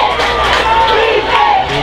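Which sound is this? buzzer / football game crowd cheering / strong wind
football game crowd cheering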